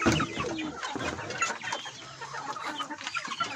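Chickens cluck and chatter steadily at feeding time, a dense flock sound close by with a few louder squawks, and a young duckling is kept among them; no talking is heard.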